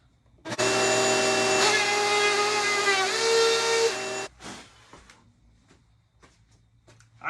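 A power tool with a vacuum attachment whines loudly for several seconds in a garage workshop, its pitch sagging briefly mid-run before it shuts off, followed by faint clatter and handling noises.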